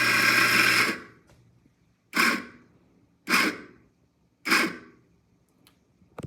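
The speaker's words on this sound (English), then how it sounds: "So it's gonna grind that all up for me." An espresso grinder on a La Marzocco Linea Mini setup grinds a 14 gram double dose, one longer whirring burst followed by three short pulses, close and clear.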